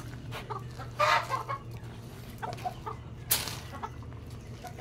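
A sick chicken with a hoarse voice clucking softly while being offered feed, a few scattered close clucks over a low steady background hum.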